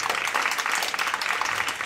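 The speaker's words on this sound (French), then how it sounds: "On peut l'applaudir très fort" Audience at a conference applauding a speaker, a dense, even wash of clapping that holds steady from start to finish, moderately loud and close.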